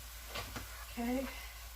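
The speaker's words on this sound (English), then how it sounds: "Get that stirring all in there." Arroz con pollo with minced garlic stirred in a hot pan, a soft scrape of the spoon over a low steady sizzle, close and fairly quiet.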